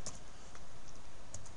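A computer keyboard under light, close typing, a few soft scattered key clicks over a faint steady background hiss.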